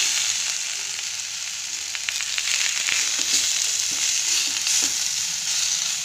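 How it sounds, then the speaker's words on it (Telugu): Spinach leaves for chutney sizzling and frying in a pan, a steady loud hiss with occasional stirring clinks and pops. "ఇది ఒక ప్లేట్లోకి తీసుకొని ఇందులోకి మనం ఆకుకూర వేసి మగ్గించుకోవాలన్నమాట."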